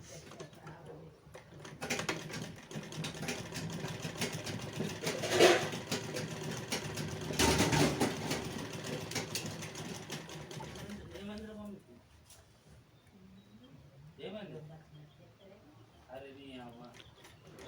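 A sewing machine stitches a salwar pant in a rapid, close whir that runs for several seconds with brief pauses and surges, then stops, and someone speaks in the quieter stretch afterward.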